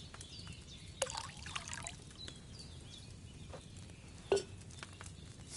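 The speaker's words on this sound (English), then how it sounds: "First, you have to pour the right base into the cauldron." Wine pours into a cauldron in Kingdom Come Deliverance 2, a quiet trickle under soft room ambience, with a few faint knocks and clinks.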